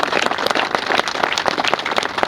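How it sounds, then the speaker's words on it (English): An outdoor crowd at a Saltire-raising event applauds two men dressed as William Wallace and Andrew de Murray; brisk, uneven clapping from many hands, fairly loud and close, continuing throughout without talk. "A big round of applause for these two guys."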